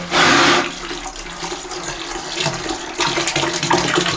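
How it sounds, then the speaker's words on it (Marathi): Hot water from a geyser-fed tap gushes loudly at first, then keeps running in a steady close splashing rush with slight changes in flow, no voices. "आणि ते झाल्यानंतर मग इकडून पाणी येतं लेफ्टने गरम पाणी येणार"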